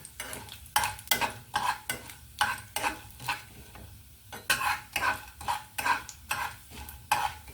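Tempering spices frying in a pan for bachali leaf and tomato chutney, close stirring strokes in quick bursts with short pauses between, each stroke a bright scraping sizzle, no talking.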